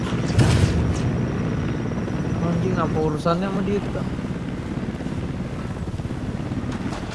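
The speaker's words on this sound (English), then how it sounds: "itu choppernya siapa?" Unidad helicopter in Ghost Recon Wildlands, a continuous rumbling rotor wash with gusty wind-like noise beneath energetic conversation between players.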